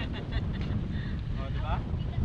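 Strong wind buffets the microphone in a continuous low roar, with faint voices and water noise mixed underneath.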